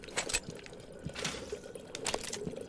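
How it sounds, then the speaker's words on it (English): A character drinks water in the video game Prey: Mooncrash: a few short, squishy liquid gulps and drips in quick bursts, fairly faint over a low game ambience. "Love a drink of water, thank you."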